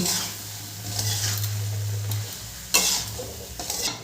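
A pasty mix of ground cashew, poppy seed and melon seed is stirred in a pan over the heat for a vegetarian navratan korma, giving a steady scraping stir over a low sizzle, with a brief clatter near the end.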